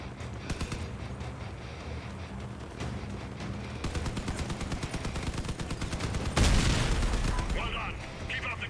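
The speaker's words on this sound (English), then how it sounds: "Running auto cannons on his vehicle." Auto cannons fire from a combat vehicle in the video game Crossout, a rapid stream of sharp, loud bursts that runs almost continuously and swells near the end, with voice commentary over it.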